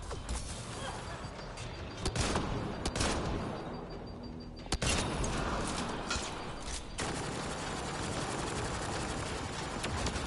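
Turret gunfire in a video game, fired in loud, sharp bursts of rapid shots separated by short pauses, over a constant background din of battle.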